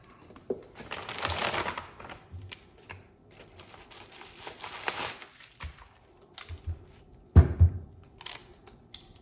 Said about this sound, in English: Time now to unbox the caliper.